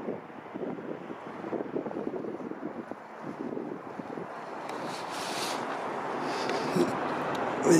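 Steady outdoor wind rumbles against the microphone beside a border patrol station near a museum, a continuous broadband buffeting that swells slightly toward the end, with no talk over it.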